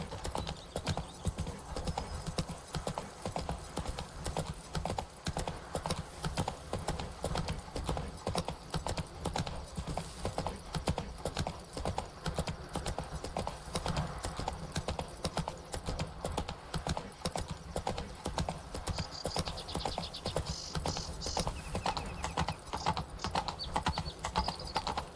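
Roach, a horse in The Witcher 3, clip-clops at a steady rhythmic walk through the whole stretch, with ambient game background underneath.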